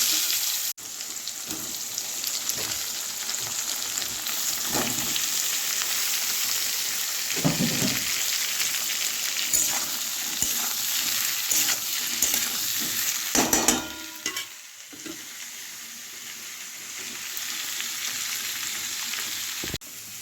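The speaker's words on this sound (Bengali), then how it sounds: "এবারে এই ফোড়নের মধ্যে দিয়ে দেবো পেঁয়াজ" Onions frying in hot oil with a panch phoron, whole cumin and dried red chilli tempering, a steady close sizzle running throughout with occasional stirring scrapes and clinks of a utensil in the pan.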